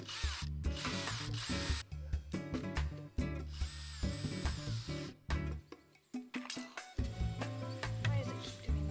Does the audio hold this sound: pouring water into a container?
no